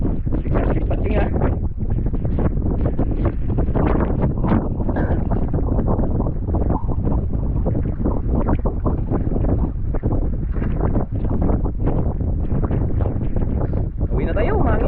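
Strong wind buffets a small boat at sea, a loud continuous roaring rush across the microphone with water and hull noise underneath.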